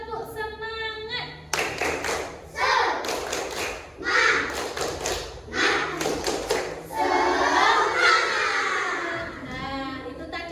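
Children clap through the tepuk semangat routine in a classroom, with bursts of rhythmic, patterned claps separated by short pauses and chanted young voices running alongside.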